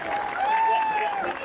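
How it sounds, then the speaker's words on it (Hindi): An audience applauds at a Hindi kavi sammelan poetry gathering, a brief burst of dense clapping with a sustained tone running underneath. "जरा एक बार जोरदार तालियां बजा करके बताओ"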